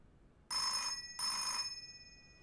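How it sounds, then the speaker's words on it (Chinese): Two loud, close bursts of an old-fashioned telephone bell ringing in an office, each a bright metallic trill about half a second long, separated by a short pause, with no talk over them. "接电话"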